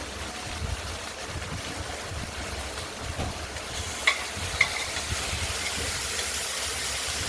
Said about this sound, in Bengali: ভাজা ভাজা করে নেবো ঢ্যাঁড়সকে